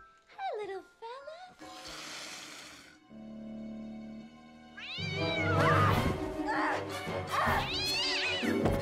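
A cat meows and caterwauls several times in a film scene, its rising and falling cries loud and close, mixed with music and other sounds in a busy comedy soundtrack.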